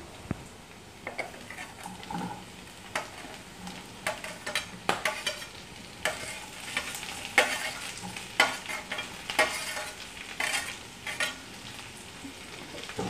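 Chopped onions going into a hot pan for a Kerala-style beef and coconut dish, a steady soft sizzle broken by repeated scraping and clinks of a spoon stirring against the pan, close up with no talking.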